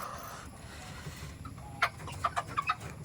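Chickens clucking in short bursts over a steady background hum, several quick calls bunched near the end, moderately close.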